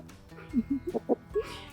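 Backyard hens in a twelve-bird flock clucking softly up close, a handful of short, uneven clucks and murmurs over quiet outdoor background.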